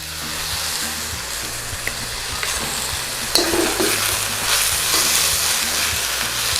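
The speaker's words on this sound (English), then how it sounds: "go in with about a tablespoon of fish sauce, but we go around the outside of the wok." Fish sauce poured around the edge of a hot wok of stir-fried cabbage, a loud continuous hissing sizzle that swells midway, with occasional clinks of the utensil, close up and without speech.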